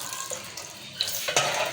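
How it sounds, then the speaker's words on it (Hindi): Water poured into fried masala in a pan for bhap badi gravy sets off a short, close sizzle and splash with soft stirring sounds. "थोड़ा मैं इसमें पानी डालूँगी ताकि हमारी थोड़ी सी ग्रेवी बन जाए।"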